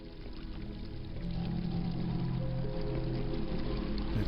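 Steady rushing water of a waterfall chamber in the Quake mod Arcane Dimensions, a continuous broadband wash that swells slightly louder after the first second and holds level, with no talking.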